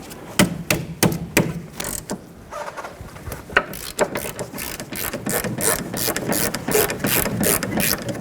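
A ratchet with a 17mm socket breaks brake bracket bolts free on the rear knuckle of a 2006–2012 Toyota RAV4, giving close, rapid clicking bursts with a few metallic knocks and clunks.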